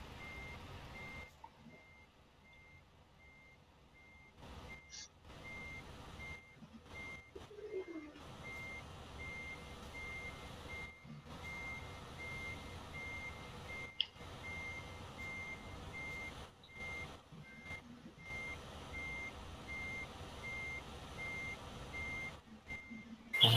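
Steady reversing beeps from a truck in Euro Truck Simulator 2, a repeating electronic tone at an even rhythm over a constant engine hum, with no talking.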